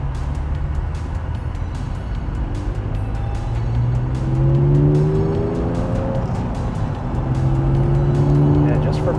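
A Honda J-series engine swapped into an NSX drones through its exhaust while driving, a steady low growl with rising and falling pitch sweeps as it revs, heard from inside the car under conversation.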